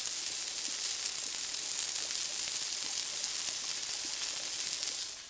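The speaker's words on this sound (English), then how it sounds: "Put the mic down so you can hear that sizzle." Loud, continuous sizzling of kangaroo burger patties frying in a hot pan, a dense crackling hiss that holds steady throughout and then tapers slightly at the end.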